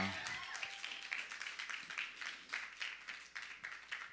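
Audience applause for a performer at a live music show, a steady patter of clapping from a moderate-sized crowd, fairly faint and continuous throughout.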